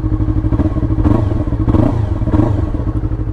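A loud, close 2020 Yamaha R3 sport motorcycle with an Akrapovic aftermarket exhaust idles steadily with a deep, lumpy note, rising in a few short throttle blips.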